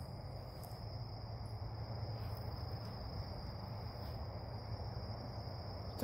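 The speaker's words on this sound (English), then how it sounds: "It's a pretty quiet evening, except for those crickets." Crickets chirp steadily in a quiet evening, a continuous high trilling at moderate distance with no voices.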